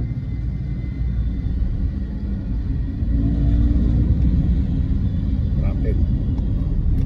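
Road traffic near the Star Tollway entrance toward Kalamba, a continuous low rumble of car and motorbike engines close by, growing slightly louder midway, with someone talking throughout.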